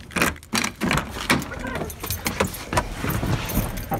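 Metal keys jangle and clink in quick, irregular bursts close by, with some rattling and a faint vehicle hum behind.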